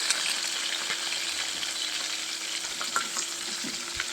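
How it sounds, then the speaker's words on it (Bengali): Potato pieces frying in hot oil in a village kitchen give a steady, close, bright sizzle and crackle throughout, with a few small pops and no talking. "এই তেলের ভিতর মাংসের আলুটা ভাজি করে নিই। দেখছো কীরকম একটা আওয়াজ করবে।"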